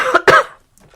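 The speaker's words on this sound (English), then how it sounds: "Hold on, I gotta cough really bad." A person coughs twice in quick, harsh bursts close by, followed by a faint throaty rasp and near silence.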